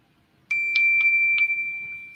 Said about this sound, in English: Oh goodness, I didn't turn off my phone.